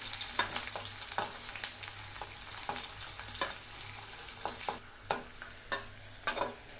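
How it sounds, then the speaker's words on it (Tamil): Sliced small onions sauté in oil with garlic for tomato thokku, giving a soft, constant sizzle dotted with the clack of a spoon stirring against the pan at irregular intervals. "சேர்த்துட்டு வெங்காயத்தை லேசாக வதக்கி விடுங்க."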